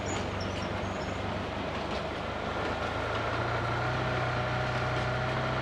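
A train in the mobile battle royale game BGMI rumbling past with a continuous low, heavy rolling roar and faint wheel clatter, loud and steady throughout with no voices over it.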